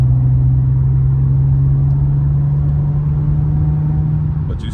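Infiniti G37 fitted with Stillen Gen 3 longtube intakes making a steady part-throttle pull near 3,000 rpm, its loud, continuous droning engine note holding evenly close by before easing off at the end.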